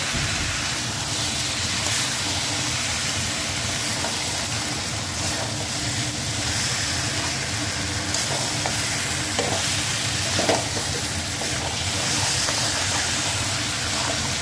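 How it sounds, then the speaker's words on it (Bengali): Marinated crab fries in a pan, giving a continuous dense sizzle and hiss, with scraping and clinking from stirring scattered through the whole stretch. "তো চলো ম্যারিনেট করা কাঁকড়াটা অ্যাড করা যাক। এবার এটা দিয়ে আমি প্রায় 5-7 মিনিট ভালো করে কষাবো।"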